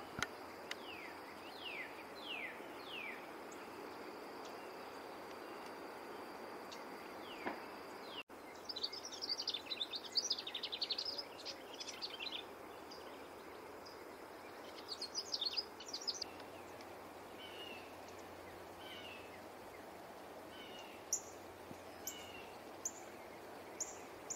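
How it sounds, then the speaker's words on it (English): Black-and-white warbler singing at a green, algae-covered pond on the upper Texas coast during migration: a thin, high squeaky song repeated in bursts over a steady insect hum, with other faint chirps around. "Black and white warbler."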